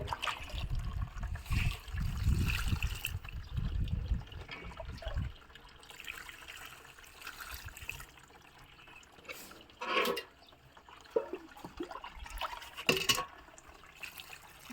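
Water poured over soil after sowing seeds in a terrace garden, a steady splashing trickle at first, then quieter intermittent drips and small splashes.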